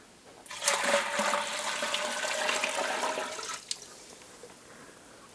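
Chicken noodle soup broth pours from a heavy batch into a pot, a rushing, splashing liquid stream lasting about three seconds before tapering off, fairly quiet and close.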